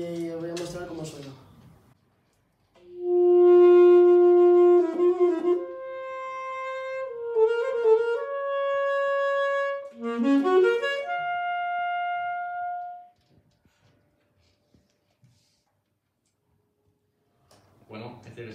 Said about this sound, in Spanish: este es el saxofón alto y está afinado en mi bemol y os voy a mostrar cómo suena.